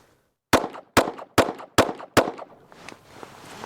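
A Hellcat Pro pistol fitted with a Monsoon Tactical Hel Port compensator fires five sharp, evenly spaced shots in quick succession, loud and close, followed by fainter ringing and rustle.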